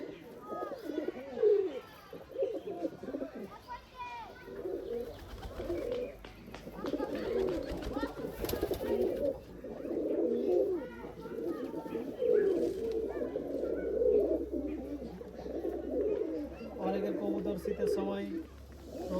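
Giribaz and racer pigeons coo repeatedly at a pigeon farm, a near, overlapping chorus of soft throaty calls running throughout beneath someone talking.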